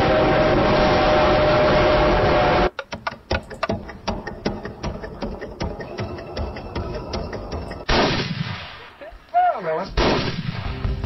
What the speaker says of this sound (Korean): 이 총 한 발 쏘는 거고요.